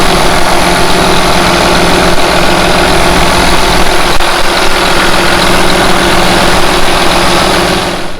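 A 2013 600 quad track tractor engine idling smoothly, loud and close, a steady unbroken rumble with constant low hum and vibration throughout.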